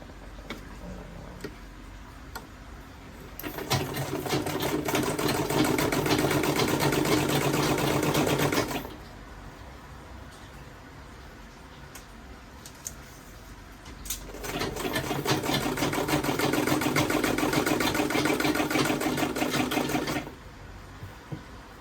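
Home sewing machine stitching a fabric wrap top, two steady mechanical runs of rapid whirring needle strokes, loud and close, separated by a quiet pause.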